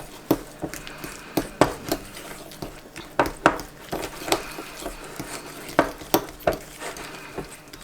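A spoon stirs a parsley-style herb blend into butter in a bowl, giving repeated sharp clinks and scrapes against the dish in an irregular rhythm, close and fairly loud.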